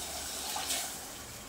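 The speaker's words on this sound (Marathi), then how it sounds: "त्याच्यानंतर आता लगेचच आपल्याला जे आपण चवळी शिजवलेलं पाणी ठेवलं होतं ते घालायचं" Reserved cowpea cooking water is poured into a pot of amti curry, giving a soft, steady splashing hiss that swells briefly near the middle of the pour. No voices are heard.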